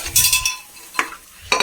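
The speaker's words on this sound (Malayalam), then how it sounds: "നമ്മുടെ കടല വേവിച്ച് വെച്ചത് ചേർക്കാം" Cooked chickpeas get stirred into frying masala for a kadala curry, with short bursts of sizzling and scraping and a couple of sharp utensil clinks against the pan.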